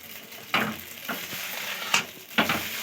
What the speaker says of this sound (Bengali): দেখুন এইভাবে চাউমিনটাকে আমি ভালো করে ভেজে নিচ্ছি